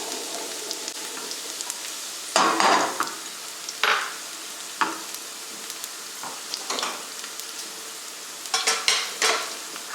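Eggs frying with browned garlic in a pan give off soft bursts of sizzling and stirring scrapes, louder around the middle and end, over a quiet steady hiss with no talking.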